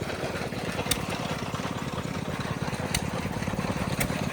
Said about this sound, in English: Making so many different types of, well, it's a corn grinder.